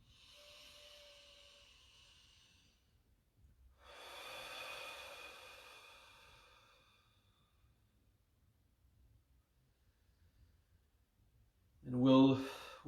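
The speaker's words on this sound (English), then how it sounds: "Breathe deeply" A person breathes deeply during meditation practice, with a long soft inhale, a pause, then a fuller airy exhale, close and quiet in a hushed room, ending with a sharper breath.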